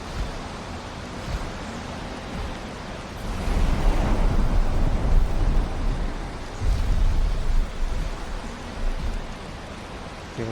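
Rain in the video game Valheim falls as a steady, dense hiss with a low rumble that swells louder through the middle and again near the end, with no talk over it.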